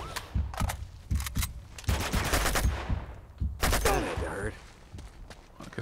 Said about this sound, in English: they keep shooting me